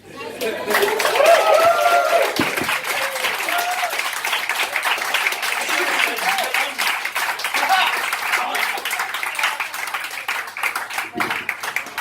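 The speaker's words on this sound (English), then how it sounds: "Another round of applause, I think." A comedy show audience at a bar breaks into sustained applause and cheering for a comedian, a dense wash of clapping lasting throughout with some voices mixed in.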